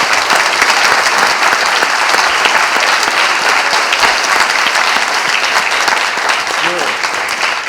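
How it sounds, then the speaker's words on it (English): Dense, loud audience applause after George's presentation, sustained evenly throughout, with a brief voice rising over the clapping near the end. "let's give a round of applause for George's presentation"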